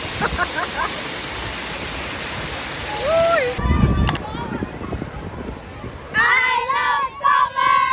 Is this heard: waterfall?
yes